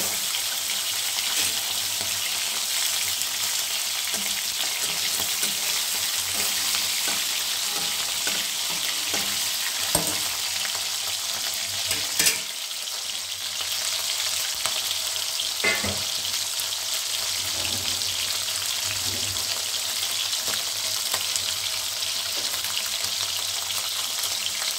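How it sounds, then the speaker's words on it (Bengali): Pieces of fish fry in a pan with a steady, close, continuous sizzle and crackle, broken by a few brief clinks and scrapes and no talking. "মাছগুলো ভাজা হোক"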